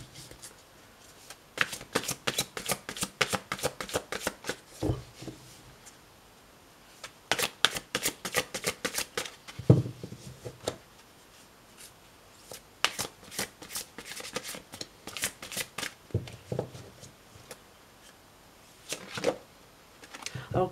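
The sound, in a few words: shuffling cards for a card reading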